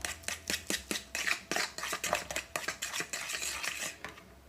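A utensil stirring banana bread batter with butter in a bowl, making rhythmic scraping and knocking strokes about three per second, steady and close, with no talking.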